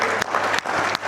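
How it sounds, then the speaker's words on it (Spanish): A church congregation bursts into brief, steady applause during a Spanish-language sermon, the clapping sounding close and full with no voices over it. "Vamos a un aplauso"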